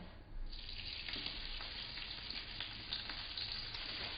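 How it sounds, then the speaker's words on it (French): Gambas (prawns) frying in hot peanut or frying oil in a hot pan, a steady close sizzle with crackling pops that holds without a break. "dans une poêle chaude, mettre de l'huile d'arachide ou de l'huile de friture et disposer les gambas"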